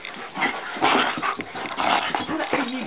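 Dogs pant and whimper up close in a steady, breathy, uneven stream of whines and puffs, fairly loud throughout with no clear talk.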